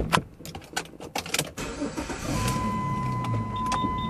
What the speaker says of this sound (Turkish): Aracı az bir şey yürüteceğim